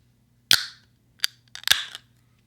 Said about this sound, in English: That's an award-winning can open sound right there.